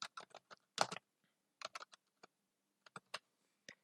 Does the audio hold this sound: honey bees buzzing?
no